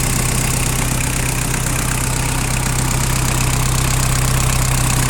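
A car engine idles steadily and smoothly at constant speed, loud and close, with an even low hum and no other sounds or voices.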